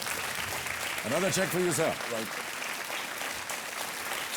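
Studio audience on the Kaun Banega Crorepati quiz show applauds continuously, a steady, moderately loud wash of clapping, while a voice speaks briefly over it partway through.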